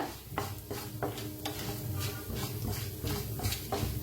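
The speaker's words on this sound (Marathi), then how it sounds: "आता ह्याला भाजून घेऊया।" Lentils, urad dal or chana dal, dry-roasting in a pan for Mysore dosa, stirred with a spoon in steady scraping strokes. Repeated close scrapes and soft rattles run throughout with no voices.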